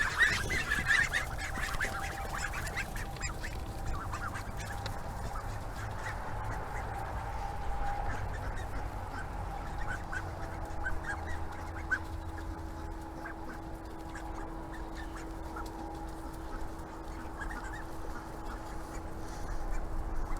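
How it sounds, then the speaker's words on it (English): A crowd of ducks quacking and honking in a feeding frenzy, a dense, continuous jumble of overlapping calls over steady outdoor background noise, loud and close. "That's what you call a duck feeding frenzy."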